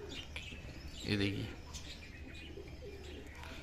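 High flyer pigeons coo softly in a short low burst, with faint chirps around them, while someone speaks nearby.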